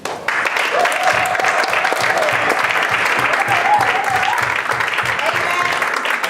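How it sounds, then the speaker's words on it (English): Sustained applause from a crowd, steady and loud throughout, with a voice faintly audible beneath the clapping. "let's encourage, let's clap, let's make noise for Sister Gabby."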